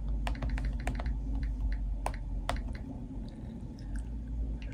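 Fingers type on a computer keyboard in a quick burst of close, crisp key clicks that slows to a few scattered taps over a low room hum.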